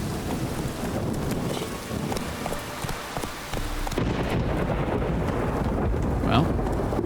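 Thunderstorm in the Witcher 3 video game: steady wind and rain roar under a rumble of thunder, with a sharp crack of a lightning strike late on, loud and continuous throughout.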